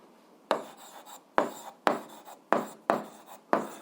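Pen strokes scratch across paper while an eighth-grade algebra exercise is written out. About six distinct bursts of close, crisp writing are separated by short pauses, with no talking.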